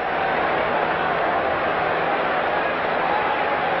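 A sold-out Soldier Field crowd at a 1986 football game murmurs as a steady, uneasy roar of many voices, constant and fairly loud for the whole stretch.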